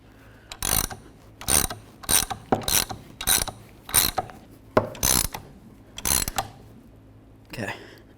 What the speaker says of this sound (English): As you're tightening the pulley on, you want to be extremely careful for any pinch points.